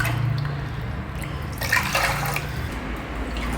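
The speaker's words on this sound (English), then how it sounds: "to this I am adding 2 cups of water" Water is poured into two cups of sugar in a pot for gulab jamun syrup, a continuous splashing trickle that swells briefly midway, close and alone without talk.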